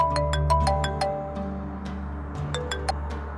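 A mobile phone ringtone of an incoming call rings indoors, a bright repeating chime pattern of quick tones that pauses and restarts, fairly close and clear with no talking.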